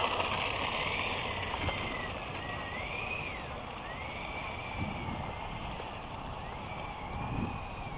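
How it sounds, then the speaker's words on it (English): Freewing F-22 64mm electric ducted-fan RC jet flying at sunrise with the afterburner on, a continuous distant rushing whine with gently rising and falling pitch sweeps as it passes, steady and unbroken over outdoor background noise. "Good luck, F-22. Here, let's do it. With the afterburner on."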